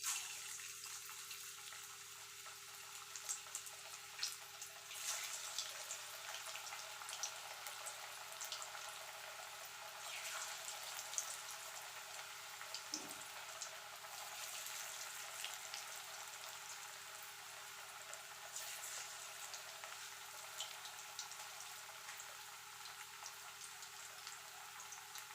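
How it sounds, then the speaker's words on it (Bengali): Onion fritters, piyaji, frying in hot oil: a steady, fairly quiet bubbling hiss with faint crackles that keeps going without a break, plus a low constant hum underneath, and no one talking. "আমার তেলটা গরম হয়ে গেছে। এবার আমি একটা একটা করে পেঁয়াজি ছেড়ে দেবো।"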